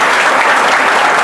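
Audience at a coaching institute prize distribution clapping loudly to welcome a rank-holding student, a dense close burst of applause with no gaps.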